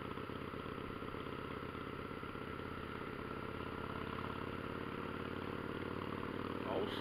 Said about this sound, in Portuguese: Olha o som dessa motoca.